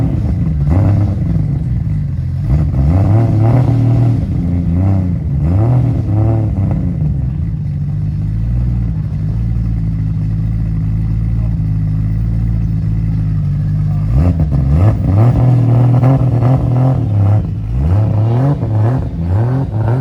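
A drift car engine at a Japanese car meet on the street revs loudly and close, with repeated rising and falling blips, a steadier idle in the middle and more revving toward the end.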